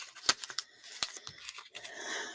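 Scissors snipping during a candle-and-jar spell ritual, several quick sharp cuts at irregular intervals, close and moderately loud, with faint rustling of material in between.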